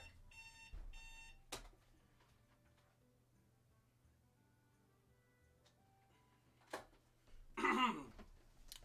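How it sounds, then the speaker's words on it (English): An alarm clock goes off late in a quiet room, a loud harsh burst of ringing after a few scattered faint ticks and clicks, with no talk. "And there goes my alarm clock."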